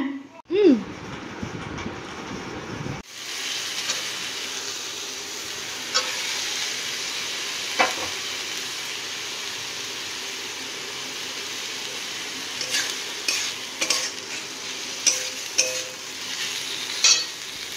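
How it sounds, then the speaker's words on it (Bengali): Curry simmering in a pan with garam masala and raw oil added, stirred now and then: a steady close bubbling sizzle with scattered scraping clicks, after a short whistling tone at the very start. "এবার একটু নাড়িয়ে দেবো, আর একটু ফুটুক"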